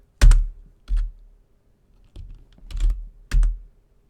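Several separate bursts of keystrokes clatter on a computer keyboard, close and crisp, with short pauses between clusters of taps.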